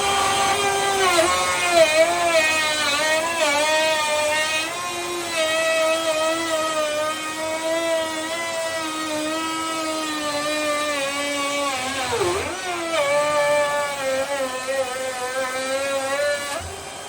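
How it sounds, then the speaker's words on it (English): A trim router bit in a jig follows a template to cut a hole in a narrowboat fit-out panel, giving a loud, steady high-pitched motor whine with a tone that rises and falls under load and dips briefly near the end. "Jig with a trim router bit in it, follows the template and just cuts out the hole like a knife through butter."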